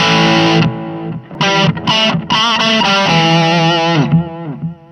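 Loud overdriven electric guitar through a ZOOM MultiStomp drive patch, playing sustained distorted chords and notes, with brief gaps between phrases; no voices.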